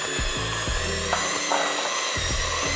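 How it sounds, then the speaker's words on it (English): An electric mixer whirs in short repeated bursts while smoothing cream cheese filling for a strawberry cheese danish, its motor whine rising and dropping close by, with no talking. "I'm just gonna go ahead and use a mixer to get it nice and smooth."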